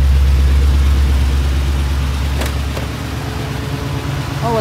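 A 1973 SLC 450 V8 car engine idles with a steady, low rumble that stays close and even, with a few faint higher chirps near the end.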